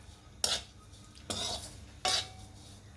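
Grated coconut dry roasting in a pan without oil, heard as three scraping stirring strokes of a utensil against the metal pan, close and fairly quiet with faint sizzle between.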